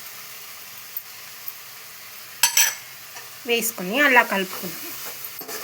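A spoon stirs roasted gram powder and lentil spice powder into a cooked, sizzling dish in a pan, scraping in short bursts while a voice speaks briefly.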